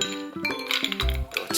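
Ice cubes clink and knock against a bowl of cold bean sprout soup, a few sharp bright taps and a rattle close up.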